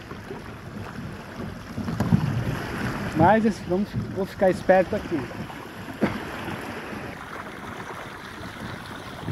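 Wind buffeting the microphone aboard a small sailboat on a short crossing, a steady rushing roar with brief gusts, while someone speaks over it.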